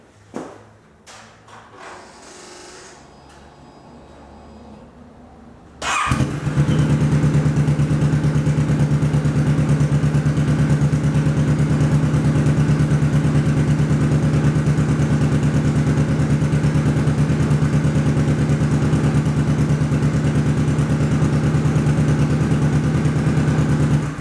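A Kawasaki Vulcan S motorcycle fitted with a Musarri GP Street exhaust idles steadily and loudly up close, a deep, constant rumble that starts abruptly after a few seconds of quiet handling noises and runs without a break.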